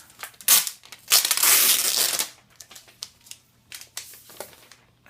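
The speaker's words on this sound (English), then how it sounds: "We're going to take it out of its plastic sheath real quick." An iPad Air is pulled out of its plastic sheath, with loud, close crinkling and crackling of plastic in several bursts, one long rustle, then lighter handling clicks.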